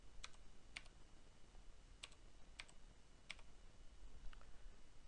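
A few sparse keystrokes on a computer keyboard while entering a package search in Ubuntu Linux 15.10, soft, fairly close clicks spaced irregularly over a low steady background hiss.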